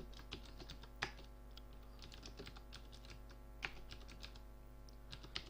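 Typing on a computer keyboard running Windows 7, quiet close clicks of keys in irregular quick bursts with a few sharper, louder strokes, steady background hum and no voices.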